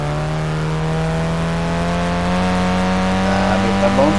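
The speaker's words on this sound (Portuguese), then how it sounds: "Nossa, olha o canto de descarga daquele carro." A modified car's exhaust in the Street Legal Racing Redline racing game, a loud steady engine drone that rises gradually in pitch toward the end, heard close and continuous with a voice talking over it.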